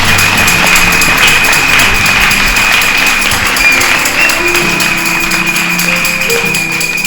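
A church congregation applauds and cheers in acclamation, a dense, steady wash of clapping and crowd noise that holds loud throughout with a sustained tone running underneath.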